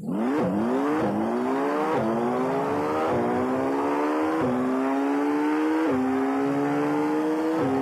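Formula 1 race car in a racing video game accelerating hard on a qualifying lap at the Australia circuit, engine note climbing steadily through roughly seven quick upshifts, loud and continuous with no talk.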